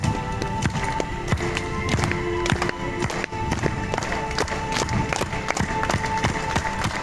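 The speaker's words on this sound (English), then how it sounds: "I just want to hear how loud you guys are going to clap." At a stunt show in Newcastle, an audience claps together in a steady, repeated rhythm, a dense run of sharp crowd claps with murmuring underneath.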